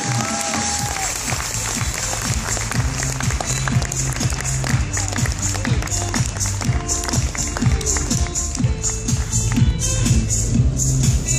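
Sustained applause from an audience at an award ceremony honoring a social entrepreneurship prize winner, dense and steady throughout with a rhythmic pulsing beat running underneath.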